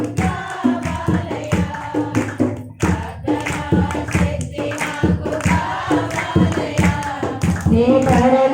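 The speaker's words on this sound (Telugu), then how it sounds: "అందరికీ చప్పట్లు కొట్టుకోండి." A church congregation claps along in a steady rhythm under loud singing and music, the beat continuing throughout without pause.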